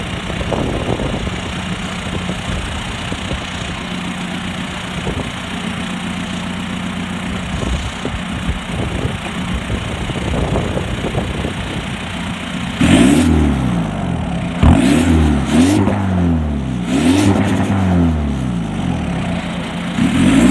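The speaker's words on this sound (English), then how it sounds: "The car's actually surprisingly quiet for a deleted exhaust though. Like, the muffler is gone." 2004 Volkswagen Jetta TDI wagon diesel with the exhaust deleted, idling with a steady low rumble before a few quick throttle blips swell and fall back in the last seconds.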